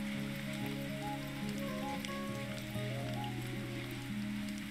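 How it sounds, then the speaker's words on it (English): Steady rain falls in the video game Sumire, a constant soft hiss that runs the whole time under sustained musical tones, with no talking. "I never realized the sound of rain could be so beautiful."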